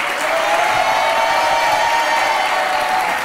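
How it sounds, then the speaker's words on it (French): Steady audience applause in a French TV game show studio, a dense, loud wash of clapping with some crowd noise, unbroken throughout and no clear talk. "On peut l'applaudir à l'effort."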